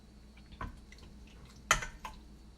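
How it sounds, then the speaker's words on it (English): Creamy vegan garlic, onion and smoky chipotle sauce is poured over pasta noodles, giving a few soft, wet plops and squishes, one near the start and a sharper pair later, close and quiet, with no talking. "we are going to just pour it over the noodles"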